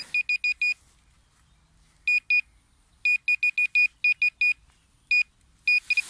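A metal detector emits sharp, high electronic beeps in quick clusters over a field where coins are found, repeated several times with short silent gaps between bursts.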